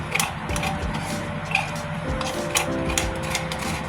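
Dry, stuck baking powder being scraped loose from its container with a utensil, a continuous gritty scraping and clattering close up with small ticking knocks, no one talking.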